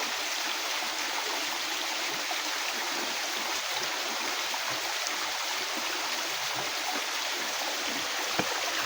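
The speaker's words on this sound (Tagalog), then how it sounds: "may tubig talaga yung malabas galing sa taas tol" A small waterfall, water falling from above in a steady, loud rushing splash that stays constant throughout with no pauses and no voices.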